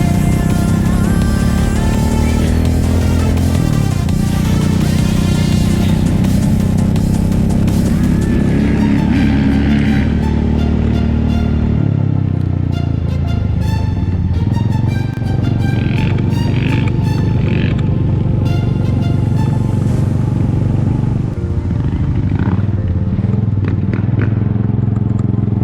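A 2021 Honda CRF450RX dirt bike ridden around a circuit track at about quarter throttle, its engine droning loud and close throughout with shifting revs and mechanical clatter.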